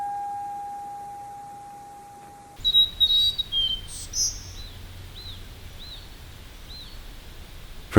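After a quiet stretch with a faint tone, birds sing in short chirps and whistled calls, a few repeated rising notes sounding moderately near over soft outdoor background.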